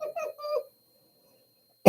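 A person talks briefly, falls silent, then lets out a single sharp, loud cough close to the microphone right at the end.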